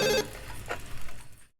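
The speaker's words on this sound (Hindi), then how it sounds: "देखो जरा किसका फोन है।" A telephone bell rings briefly and close by, a short burst of ringing that trails into faint room noise.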